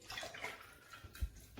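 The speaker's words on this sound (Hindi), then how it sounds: "मैंने चने की और अरहर की दाल में पानी डाल दिया।" Water poured into a pressure cooker holding soaked pigeon peas and chickpea lentils for sambar, a brief close splashing gush with a gurgle.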